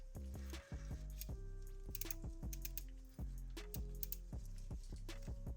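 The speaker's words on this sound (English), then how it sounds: "Pretty easy to turn, nice clicky sound to it." A series of small, crisp clicks from a tattoo machine's needle depth adjustment dial at an irregular pace, close and quiet, over a low steady hum.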